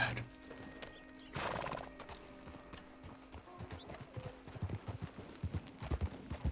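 Horses clip-clop and whinny in Red Dead Redemption 2, with a neigh near the start and steady hoofbeats building louder toward the end, no talking.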